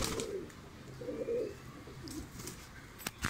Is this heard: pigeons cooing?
yes